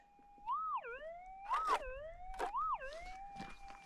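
Metal detector sounding a loud target signal on a gold hunt among bushes in Western Australia: repeated rising-and-falling warbling tones, three strong swoops with rustling noise between them, close and fairly quiet overall.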